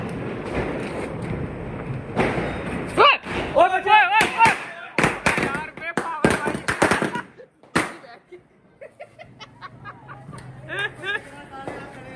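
Diwali firecrackers go off nearby in sharp cracks and rapid rattling volleys with short pauses between bursts, while voices chatter in the background.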